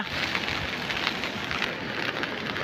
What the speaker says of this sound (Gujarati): વરસાદ એવડો પડ્યો અને વરસાદી હાલમાં ચાલુ જ છે